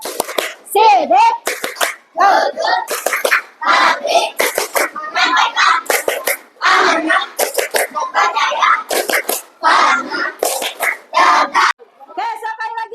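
Schoolchildren clap and chant together in a rhythmic classroom clapping song about the obligatory attributes of the Prophet, with steady bursts of claps and young voices throughout.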